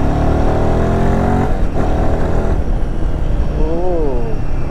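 A Royal Enfield Himalayan 450 motorcycle engine drones steadily while riding, a continuous low rumble with rising and falling pitch throughout.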